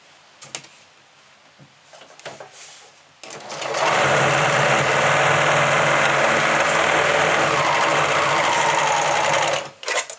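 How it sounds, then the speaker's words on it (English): A serger overlock machine stitches fabric around a corner, a steady, loud, fast mechanical whir running continuously after a few faint handling clicks, then stopping abruptly near the end. "So starting at the outer seam, go ahead and start serging."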